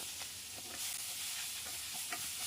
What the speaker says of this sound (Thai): ผัดให้สุกครับ ใช้ไฟกลางนะครับ